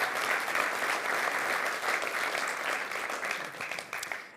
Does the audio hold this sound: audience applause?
yes